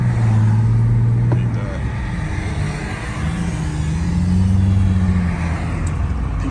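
An Infiniti G35xs with an ISR single-exit exhaust accelerates, its engine drone loud and close, with a rising, throaty pull that swells again toward the end.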